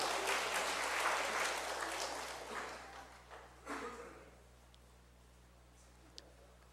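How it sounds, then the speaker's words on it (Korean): A church congregation gives encouraging applause for children, a soft, distant patter of clapping that swells briefly, then thins and fades out after about four seconds, leaving near-silence. "우리 아이들에게 격려의 박수 한번 부탁을 드립니다."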